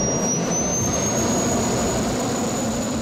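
A jet-engine go-kart with an afterburner roars loudly and steadily, a constant heavy rumble with a high whining tone running through it throughout.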